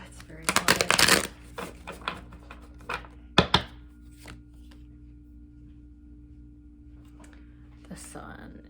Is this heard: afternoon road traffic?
no